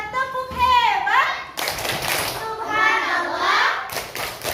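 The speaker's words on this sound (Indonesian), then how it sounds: "yuk sama-sama kita tepuk hebat" Fourth-grade children in a classroom chant together in unison, with rhythmic group clapping and taps punctuating the chant, close and lively.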